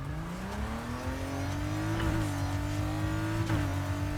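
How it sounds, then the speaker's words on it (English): A 2.9 litre Porsche V6 swapped into a BMW M3 GTR in the racing game Need for Speed Heat revs steadily upward, the engine note climbing with brief shift dips, loud and close with no talking. "Now that's a Porsche engine"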